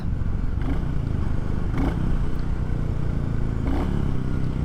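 A Royal Enfield Classic 350 motorcycle with an aftermarket muffler gives a steady, throaty engine drone on the road, with a few brief swells during rev matches. Rushing wind noise sits under it, and no one speaks.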